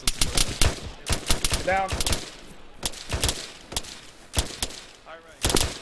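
Arma 3 squad assault gunfire: repeated sharp rifle and machine-gun bursts cracking out across the whole stretch, some shots close and loud, others fainter, with a man's radio-style voice calling orders between volleys.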